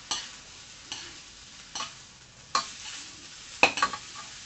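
Rice noodles stir-fried in a hot wok, with about five sharp scraping strokes spaced roughly a second apart over a soft, steady sizzle.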